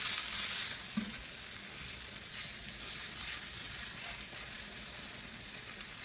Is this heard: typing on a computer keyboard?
no